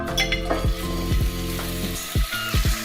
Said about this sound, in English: we're going to get frying off those meatballs